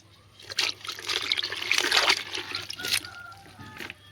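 Water from buckets splashes and pours across a surface while a floor is washed. The sound is a steady, fairly close wash of splatter and trickle that rises and falls over several seconds, with no talking.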